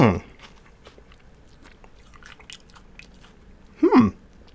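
Someone bites into a large freeze-dried peach ring candy, giving a loud crunchy bite at the start and another near the end, with quiet chewing between.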